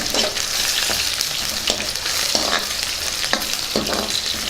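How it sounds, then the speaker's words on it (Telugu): Onions, curry leaves and dried red chillies frying in hot oil for a rasam tempering, a loud close sizzle broken by repeated scraping strokes of a spoon stirring the pan at an irregular rhythm; no voices. "ఉల్లిపాయ ముక్కలు వేగుతున్నాయి కదా ఇప్పుడు కరివేపాకు వేసుకుందాం"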